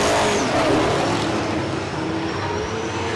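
A dirt-track race car running the high line around the outside of a speedway, its engine roaring loud and steady close by, with a constant rumble and no talk over it.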